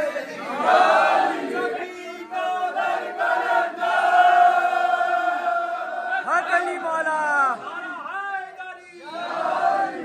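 A crowd of devotees chants the slogan "Ya Ali" in loud, repeated shouts during a night-time sehri jaga procession at Ajmer Sharif, with voices rising and falling in waves.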